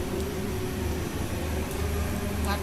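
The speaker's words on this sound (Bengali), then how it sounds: "আমি এগুলো এখন ফোড়ন দিয়ে নেব।" Several kinds of cumin and spices tempering in hot oil for khichuri, a steady, loud, close hiss of sizzling that runs unbroken, with no talk over it.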